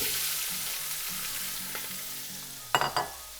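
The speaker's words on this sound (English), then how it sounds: "While you're sauteing your vegetables" Vegetables sautéing in a pot after lamb has been browned in it, a steady soft sizzle with a faint low rhythmic tone, ending in a couple of sharp stirring clatters near the close.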